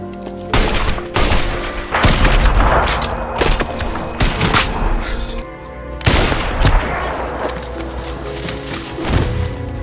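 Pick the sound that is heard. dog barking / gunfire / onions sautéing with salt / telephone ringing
gunfire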